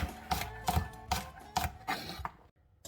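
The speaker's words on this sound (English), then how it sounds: "So still a little bit of chopping to go." Knife chopping jalapeño chillies on a board, about seven steady, evenly spaced thuds close up, then a brief pause.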